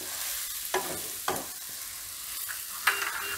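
A pan of Gujarati pigeon pea curry, tuver na totha, sizzles steadily up close while a spoon stirs and mixes it, with a few distinct scraping strokes against the pan over the constant frying hiss.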